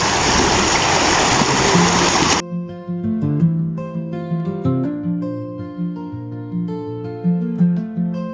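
A loud, steady rush of flowing river water fills the opening seconds, then cuts off abruptly and gives way to music.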